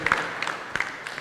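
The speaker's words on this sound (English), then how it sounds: "A round of applause for the Vice Chancellor." A university town hall audience at Bowen University claps for the Vice Chancellor in a short, scattered burst of handclaps, moderately near and without speech.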